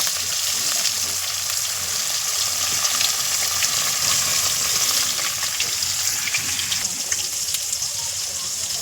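Fish frying in a pan of hot oil that bubbles and spatters, a loud, continuous dense sizzle with crackling pops throughout.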